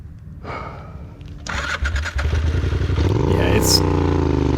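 A Triumph Scrambler motorcycle's engine revs up and pulls away while being raced off-road, rising from a low rumble to a louder clattering roar close by.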